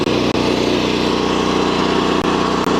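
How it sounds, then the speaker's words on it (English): A firewood log splitter's small engine runs loud and close, a steady buzzing drone with a few brief dropouts, no voices heard. "splitter's loud. That's what you're hearing. It's the engine."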